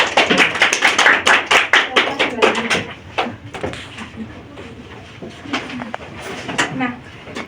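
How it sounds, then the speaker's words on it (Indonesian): Students in a classroom clap together in a brisk burst that thins to scattered claps and then picks up briefly again, with classroom voices and shuffling around it. "Silakan tepuk tangan."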